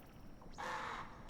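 A single bird caws in the video game Animal Well, one short raspy call that rises out of a quiet background.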